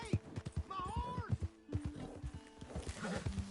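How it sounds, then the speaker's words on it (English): A horse in the video game Red Dead Redemption 2 gives a close, rising whinny over steady rhythmic hoof clip-clops, with a voice talking alongside. "Hey! My horse!"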